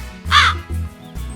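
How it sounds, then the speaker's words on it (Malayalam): A single crow caws loudly and up close in two or three harsh, rasping calls over a low background hum, with no voices. "അപ്പോഴാണ് ഒരു കാക്ക അതുവഴി വന്നത്"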